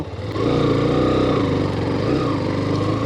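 A Hero Xtreme 125R motorcycle engine ridden off-road, holding a loud, steady running drone close by after a brief quieter start, with no voices.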